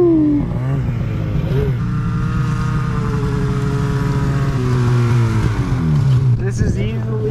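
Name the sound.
snowmobile riding through BC backcountry snow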